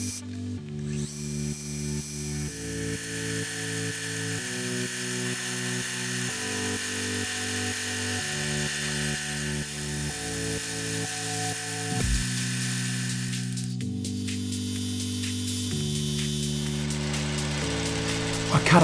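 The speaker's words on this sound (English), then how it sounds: "So first up, I face the stock and then turn the end to the correct diameter for threading." A metal lathe faces and turns stock to diameter for a Sherline tailstock die holder, with repeated short bursts of a steady tonal motor whine and cutting noise, rising and stopping in rhythmic segments, heard close and without talk.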